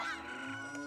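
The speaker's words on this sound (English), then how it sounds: "Chicken keeps walking through the cow." A chicken in the video game The Legend of Zelda: Majora's Mask clucks briefly. The sound is a short, faint, tonal call heard alone.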